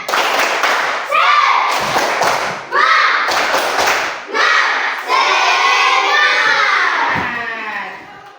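Classroom children doing a rhythmic spirit clap, loud bursts of clapping and thumps in a patterned rhythm mixed with shouted chanting voices, close and energetic.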